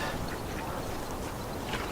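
Mallard ducks at Stoevers Lake in winter quack faintly amid a dense, steady wash of noise, the calls soft and hard to pick out.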